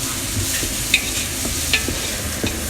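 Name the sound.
frying onion and garlic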